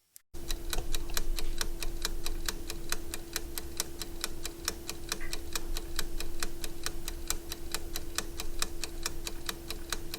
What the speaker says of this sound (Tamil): நான் உங்களுக்கு ஒரு 10 செகண்ட் டைமர் ஓட விட்றேன்